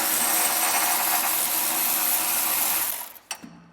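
A power tool spins out 13mm bolts from a brake line bracket on a 2020 GM truck, a steady close whirring buzz that runs a few seconds, then cuts off with a couple of short bursts and clicks.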